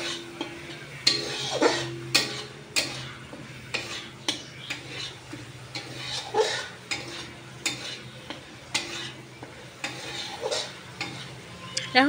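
Dal stirred with fried spices in a pot, irregular scraping and knocking of a spoon against metal over a low bubbling simmer, strokes coming every second or so, nobody speaking.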